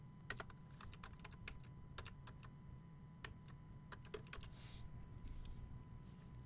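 Rapid bursts of keystrokes on a computer keyboard, irregular and fairly close, over a steady low hum of room noise with no talking.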